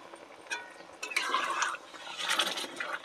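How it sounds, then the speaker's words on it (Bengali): Hot water is poured in small splashes into a pan of fish masala for a puti fish curry, heard as two short, moderately quiet bursts of running, gurgling liquid. "তো হালকা করে একটু জল দিয়ে দিলাম,"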